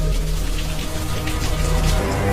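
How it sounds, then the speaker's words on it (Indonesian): Steady rain pours without a break in a radio horror drama, a dense, loud hiss with a low rumble underneath, like a downpour heard near a sedan on a rainy night. "melanjutkan mobil sedanku ini di antara hujan yang mulai mereda malam itu"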